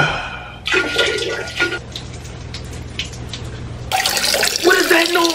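Steady splashing stream of liquid like urinating indoors in a kitchen, starting and pausing in bursts then resuming louder near the end, with a low hum underneath.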